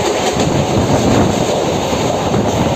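MEMU local train from Sealdah running through Bidhannagar Road station without stopping, a loud, steady, close rumble of wheels and carriages throughout.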